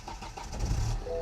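A BMW F10 with the N47 diesel engine cranks and starts up, a short, close burst of low engine rumble that settles toward idle.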